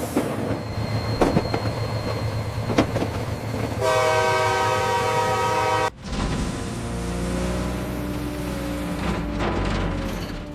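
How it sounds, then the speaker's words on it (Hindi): An animated JCB crane train sounds a long, loud steady horn blast, preceded by rumbling rail movement and clacking, then followed by continuing train running noise. "खुश होकर उसने हॉर्न बजाया"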